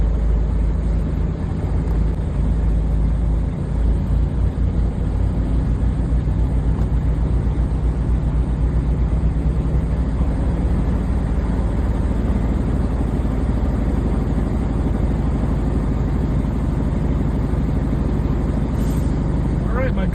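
A truck's diesel engine runs steadily at raised revs around 1,000 RPM, a dense, constant rumble that fills the whole stretch with no clear change in pitch.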